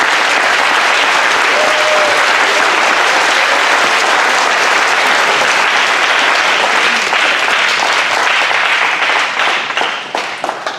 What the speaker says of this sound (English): please join me in a round of applause for the students and staff who put this program together for us